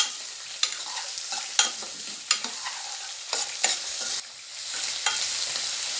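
Finely chopped onion and garlic fry in hot oil while a utensil stirs and scrapes the pan, producing a close, continuous sizzle broken by repeated sharp stirring clicks.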